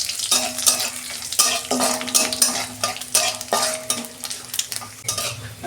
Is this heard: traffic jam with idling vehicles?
no